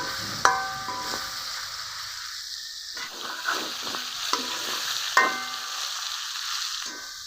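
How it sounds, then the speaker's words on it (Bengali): Oil sizzles steadily as shrimp fry, with occasional sharp clinks and scrapes of a utensil stirring the pan. "মাছগুলো আমি হালকা করে ভেজে নিয়েছি"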